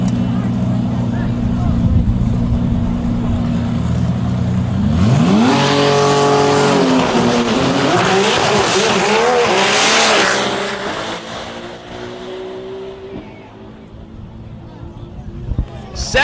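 A drag race car makes a 202 mph pass. Its engine roars up loudly and rises in pitch over several seconds, then fades as it runs away down the strip, with a voice speaking in the background.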